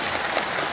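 An audience at a Parents' Day ceremony in a city hall auditorium applauds, a brief dense wash of many hands clapping at once, steady and fairly loud.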